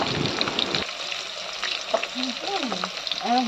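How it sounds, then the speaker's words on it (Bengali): Turmeric- and salt-marinated fish frying in a pan gives a steady close sizzle, with occasional spatters and faint whistling tones riding over the hiss. "আর এটা মাছটা এবার ভাজা হবে।"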